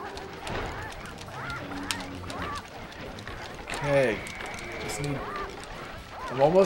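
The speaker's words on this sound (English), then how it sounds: "Just need to outrun the roosters." Game roosters squawking and clucking during a chase in the video game Sly Cooper and the Thievius Raccoonus, with short bird calls scattered over busy game music and effects, a louder burst near the end.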